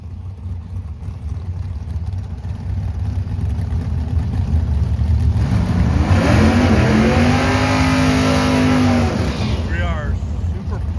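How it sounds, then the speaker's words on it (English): A drag racing car in the Super Pro Summit Series at Famoso dragstrip in Bakersfield, California, roars steadily and then builds in pitch as it accelerates, loud and close, while people talk over the engine noise. "We are Super Pro Summit Series 8-mile racing at Famoso dragstrip, Bakersfield, California."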